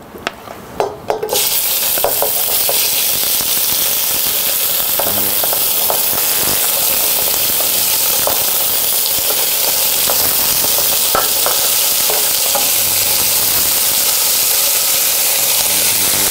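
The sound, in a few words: veal tendrons searing in a hot pan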